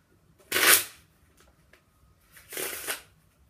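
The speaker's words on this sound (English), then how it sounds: "I'm going to give the deck a cut and shuffle the cards." A deck of Bicycle playing cards is cut and shuffled in two quick riffles, each a crisp rushing flutter, close and alone.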